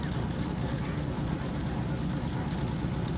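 A Ford Ranger drag racing truck in the Rowdy Radial class at Mid America Dragway produces a loud, steady, low engine rumble that holds unbroken and close for the whole stretch.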